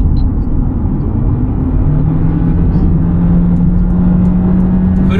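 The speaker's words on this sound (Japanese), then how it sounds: "フル加速してます。" A Honda Freed e:HEV 4WD hybrid car under full acceleration on a public road, heard from inside as a steady loud drone of motor and road noise with a rising tone.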